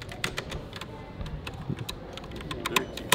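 Rapid typing on a lit-up computer keyboard, with crisp irregular key clicks and occasional louder taps, close and clear over a low background hum.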